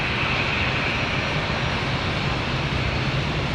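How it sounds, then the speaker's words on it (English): Republic Airways jet airliner taxiing at Raleigh-Durham International airport, a steady loud engine rumble and roar with wind noise, unbroken and close. "another Republic Airways getting a move on"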